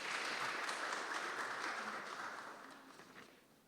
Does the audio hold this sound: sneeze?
no